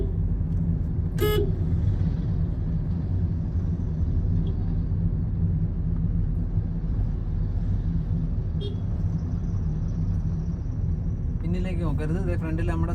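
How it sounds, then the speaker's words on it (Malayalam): A car horn toots briefly as a vehicle passes on a road, heard from inside a moving car during a driving session, over steady engine and road rumble with voices talking. "അയാൾ കടന്നു വരുന്നു എന്ന് അറിയിക്കാൻ അയാൾ ഹോൺ അടിച്ചോണ്ടിരിക്കുന്നത്"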